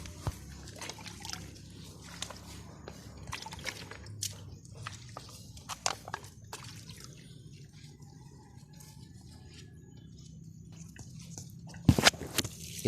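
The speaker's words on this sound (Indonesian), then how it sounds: "untuk pengocorannya ini usahakan kita siram ke pangkal batangnya ya. Kita siram seperti ini ya." Liquid is poured onto the soil at the base of a plant's stem to treat fusarium wilt, trickling steadily at close range with small splashes and drips, a few sharper knocks, and one louder clatter near the end.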